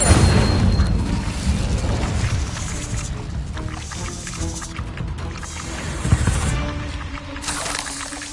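The Incendio fire spell in the Hogwarts Legacy video game erupts as a loud, dense roaring whoosh with deep booming rumble, sustained throughout with small surges.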